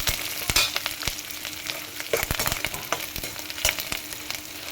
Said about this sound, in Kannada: ಕರಿಬೇವು ಹಾಕಿ, ಆಮೇಲೆ ಜಜ್ಜಿಟ್ಟಿರೋ ಅಂಥ ಬೆಳ್ಳುಳ್ಳಿನ ಹಾಕಿ ಹೀಗೆ ಫ್ರೈ ಮಾಡ್ಕೊಳ್ಳಿ